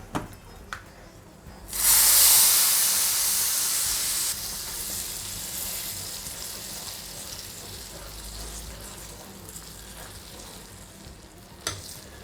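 Dried turkey berry vathal is dry-roasted in a pan. A loud, close hiss and sizzle swells after a couple of seconds, then settles into a softer, steady crackle, with a few sharp scrape-like clicks.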